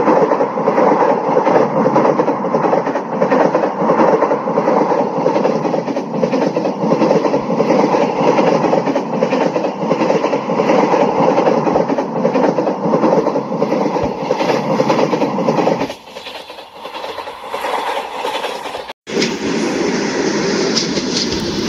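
A simulated Mahamana Express passenger train runs on steadily in a 3D train game, its loud continuous rumble and rail clatter carrying on for most of the stretch, then dropping suddenly before resuming near the end.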